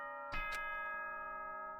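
An announcement chime from the video game Danganronpa: a single struck ding opens it, followed by steady bell-like tones that ring on quietly in the background with no voices.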